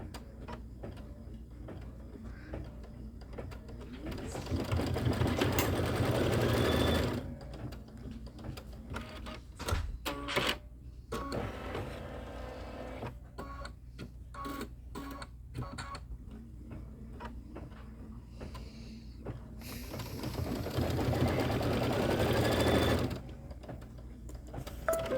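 A sewing machine stitches Kimberbell autumn quilt star-block pieces in two long, steady bursts of rapid whirring, with quieter handling and fabric shuffling between runs.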